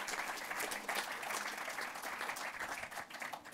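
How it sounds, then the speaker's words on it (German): Audience applause fills an evening event for actor Peter Kurth in Frankfurt, a dense, even patter of many hands clapping. "Dein Applaus, lieber Peter"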